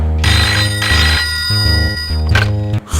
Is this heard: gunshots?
no